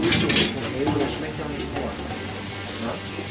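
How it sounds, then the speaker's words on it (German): Mushrooms being browned in a pan in a professional kitchen, a steady close sizzle and hiss with some stirring and pan clatter, while people talk over it. "Pilze schön anbraten."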